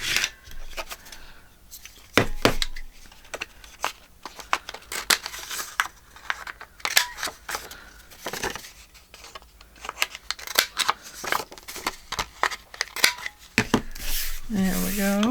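Scissors snip and trim the edges and corners of a paper journaling card, close and crisp in an irregular run of cuts, with rustling paper between snips.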